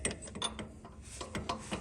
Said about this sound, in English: Okay, now you have to go with the wrench.